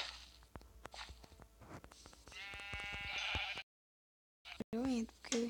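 A Minecraft sheep bleats in a short wavering cry amid game sounds and footsteps, followed after a brief gap by another bleat, heard up close.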